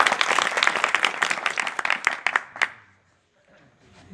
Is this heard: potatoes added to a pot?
no